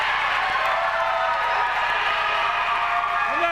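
Spectators at a high school holiday basketball game between Proctor and Sacred Heart, with other teams' players in the stands, roaring loudly in a sustained wall of cheering and shouting that swells and holds.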